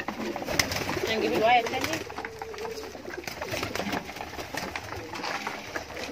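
Pigeons cooing close by while drinking, soft repeated coos over a voice talking in Arabic.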